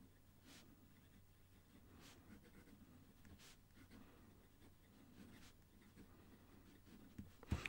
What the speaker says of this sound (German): wie die Feder übers Papier gleitet